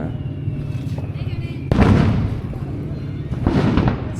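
Firecrackers go off at a local Day of the Dead parade in Mexico, with loud sharp bursts and a heavy barrage at about two seconds and again near the end, over a busy outdoor crowd.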